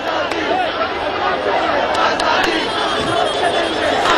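Large crowd of BJP party workers gathered in Kolkata, a dense continuous roar of many voices with scattered shouts, steady and fairly loud throughout.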